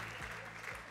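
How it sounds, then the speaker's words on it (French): An awards gala audience at a supply chain directors' ceremony applauds a prizewinner, giving a short, even burst of clapping from many hands that stays fairly soft and continuous. "Donc bravo Lauriane, on peut l'applaudir."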